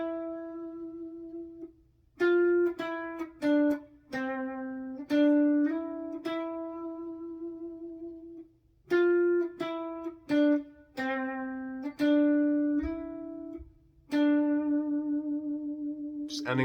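Electric guitar with effects plays an outro riff: a clean run of distinct picked notes in two similar phrases, each ending on a longer held note, close and solo with no voices.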